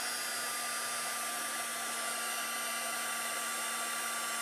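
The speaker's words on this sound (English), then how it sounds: "So take your heat tool" A craft heat tool blows steadily at black embossing powder, a constant loud whooshing hum with a high whine, unbroken from start to finish.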